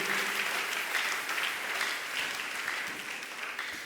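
A church congregation applauds loudly during a sermon, a dense, sustained crackle of many clapping hands that fills the room and fades a little toward the end, with no speaking voice on top.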